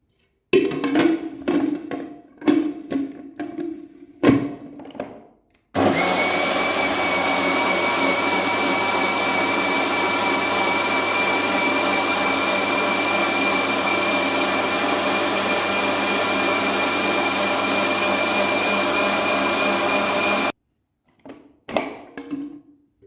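A blender whirs through raw fresh spinach leaves for soup: a steady, loud, high-pitched motor drone holding for about fifteen seconds, framed by brief bumps and handling noises before and after.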